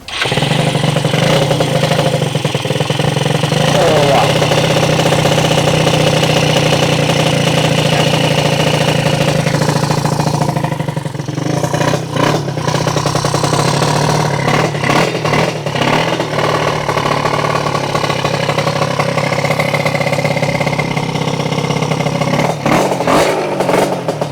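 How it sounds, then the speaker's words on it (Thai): Honda Nouvo scooter-style motorcycle fitted with a KR head, running loudly up close, a steady idle that breaks into uneven blips and revs partway through, no talk. "ลองสตาร์ทเครื่องให้ดูได้ไหมว่ามันทำงานยังไง"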